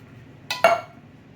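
Canned diced tomatoes going into a cooking pot for a blue crab tomato sauce, two quick clinking metallic knocks close up with a brief ring, then quiet kitchen stillness.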